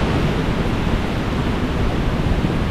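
Heavy typhoon rain pouring during a super typhoon in Batangas, a continuous loud hiss of falling water, close and even throughout with no voices.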